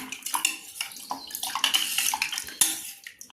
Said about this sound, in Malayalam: ഇനി നമുക്കൊന്ന് ഇളക്കണം